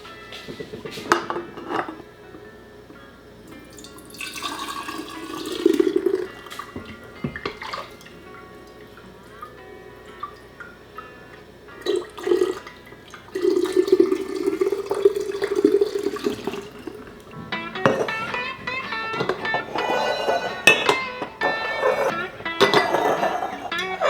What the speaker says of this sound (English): top them off with water and 1 teaspoon of salt